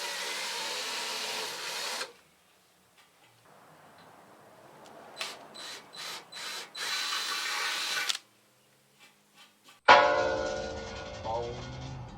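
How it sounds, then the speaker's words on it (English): A power drill bores holes through a roof rack frame, running in a long burst, then several short pulsed bursts and a final loud run, close by, with brief quiet gaps between. "drill one side, flip it over, drill the other side so that the holes are dead straight"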